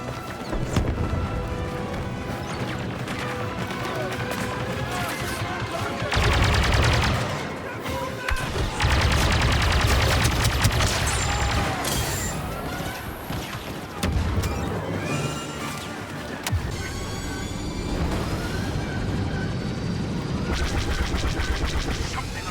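Star Wars Battlefront II battle gunfire crackles in dense volleys and rapid bursts amid crashes and explosions, loud and close throughout, with voices heard at points under the din.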